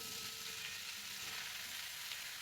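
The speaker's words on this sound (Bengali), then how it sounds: "আমাদের ভুঁড়িটা ভালোভাবে মশলার সাথে কষানো হয়ে গেলে এরপরে দিয়ে দেবো লাউটা" Goat tripe sautéed with spices sizzles steadily in a pan, a continuous even hiss and crackle of frying heard up close without any voices.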